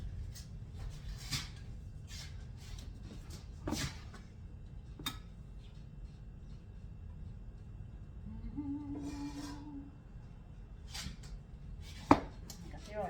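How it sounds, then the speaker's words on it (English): Garlic mashed by hand in a home kitchen, heard as a run of soft, dull knocks and taps spread across the stretch, fairly close, with a brief tonal hum and a sharp click near the end. "Mash lots of garlic."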